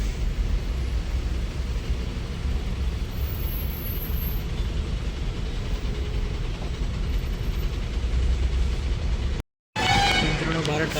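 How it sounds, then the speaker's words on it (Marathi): Heavy road traffic on a highway, heard from inside a vehicle as a steady low engine rumble and road noise that runs throughout, broken by a brief cut-out near the end. "ट्रॅफिक खूप मोठ्या प्रमाणात आहे आता अर्ध्या रस्त्यापर्यंत आलो आहे"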